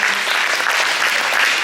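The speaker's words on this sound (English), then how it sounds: "Give him another round of applause." Audience applause at a high school post-prom event, a steady, loud burst of clapping filling the whole moment with no one talking over it.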